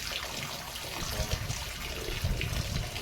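Water pouring from above into an aquaponics grow bed, a continuous splashing trickle up close that swells a little partway through, with no voices.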